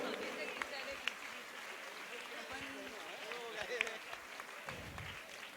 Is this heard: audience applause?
yes